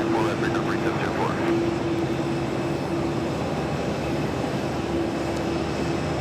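Airliner activity at JFK airport, a distant steady jet engine roar with a faint constant tonal whine, broad airport background noise throughout.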